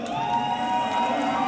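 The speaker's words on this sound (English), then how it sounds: "Crowd, let me hear some noise." A large crowd at a DreamHack Summer 2015 esports tournament cheers and shouts in a sustained, roaring wash of noise before a losers bracket final match, with no talk over it.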